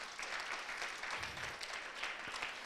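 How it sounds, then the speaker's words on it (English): Distant audience applause at a rugby festival launch event, a brief, fairly quiet patter of many hands clapping steadily. "let's give them a round of applause"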